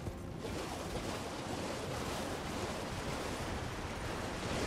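Waterfall in the video game Elden Ring Shadow of the Erdtree, a dense, steady rushing roar of water that stays loud and constant throughout, with no voices.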